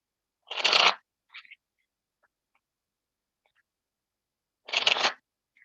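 Tarot cards are shuffled in two short, crisp riffling bursts several seconds apart, with a faint brief shuffle between them and near silence otherwise, close up and without talk.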